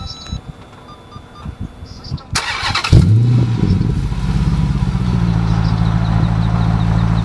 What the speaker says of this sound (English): that's got a nice rumble to it. But that is the MagnaFlow startup